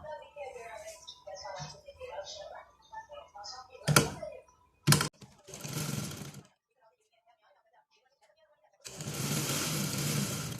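Sewing machine stitching trouser fabric runs in short mechanical bursts, a couple of seconds each, separated by sharp clicks and a long quiet gap, with a voice talking over the first seconds.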